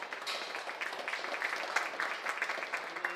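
A scattered round of hand clapping from a modest audience at a Dewey County livestock show for young exhibitors, quiet and somewhat distant, with a steady patter of claps for a few seconds.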